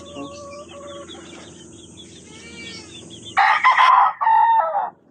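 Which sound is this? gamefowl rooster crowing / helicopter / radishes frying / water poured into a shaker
gamefowl rooster crowing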